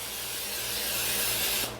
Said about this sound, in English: you always kind of want to put a little spray in there just to make sure